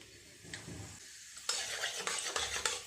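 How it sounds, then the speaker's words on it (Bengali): Asafoetida and nigella seeds drop into hot white oil in a kadai. After a quiet stir, a sharp, crackling sizzle bursts in halfway through and pops steadily, close by. "ফোড়নে দেব হিং, কালো জিরে।"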